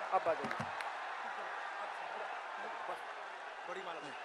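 A crowd at a political rally with Prime Minister Modi in Moradabad, Uttar Pradesh claps and cheers in a steady, fairly distant roar, with a few voices calling out over the applause.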